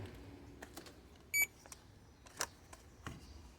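Multimeter continuity beep while testing a car's hood latch switch for a hood-ajar warning: one short, clear electronic tone, near and moderately loud, with faint handling clicks in a quiet space.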